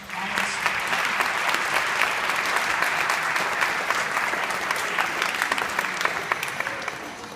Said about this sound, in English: please let's give him a round of applause for all of us